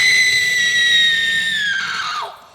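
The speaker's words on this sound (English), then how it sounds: "The screams are coming from the billiard room." A woman lets out a long, piercing, sustained scream from a locked billiard room, holding steady before breaking and trailing off, loud and alone without talk.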